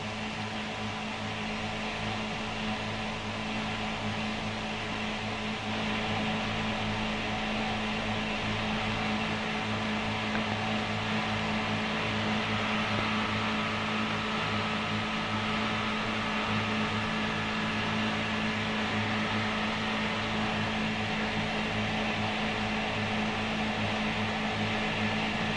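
A 1950 ribbon machine turning out large glass light bulbs at slower speed gives a steady industrial hum with strong low tonal lines and a constant broadband whir, unbroken and even throughout.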